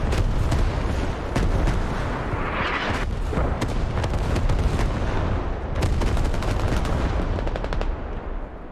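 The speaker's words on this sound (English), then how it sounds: "He's directly in the path of the barrage!" An artillery barrage pounds a match of the tactical shooter Squad, a dense, loud, continuous roar of blasts and rapid gunfire cracking over it for the whole stretch, with no voices.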